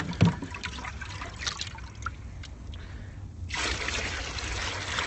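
Maple sap poured into a pan for boiling outdoors: a soft trickle and splash that swells into a steadier, fuller pour toward the end, close by and fairly quiet.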